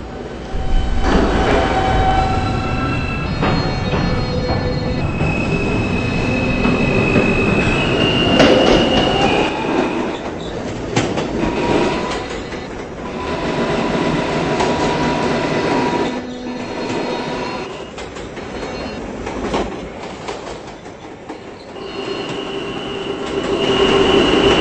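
A local subway train runs along the rails, loud and close, with rhythmic wheel clatter, rumbling and intermittent high metallic squeals throughout.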